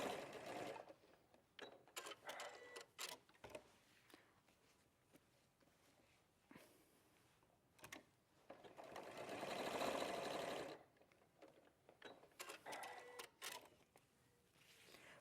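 A domestic sewing machine runs in several short stitching bursts along a seam, then one longer steady run of rapid, close mechanical whirring and clatter, with no talk over it.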